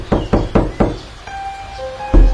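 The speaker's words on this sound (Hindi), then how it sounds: "अचानक दरवाजे पर 3 बार दस्तक हुई" A quick run of four sharp knocks raps on a door, then a thin sustained tone and a heavy thump close by, loud and without speech.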